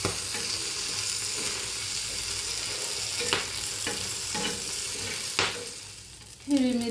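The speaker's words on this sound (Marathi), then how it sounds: "हिरवी मिरची आणि लसूण मी तळून घेतलेला आहे" Green chillies and garlic frying in a pan, a dense continuous loud sizzle with occasional spoon scrapes, the hiss easing slightly just before a final knock near the end.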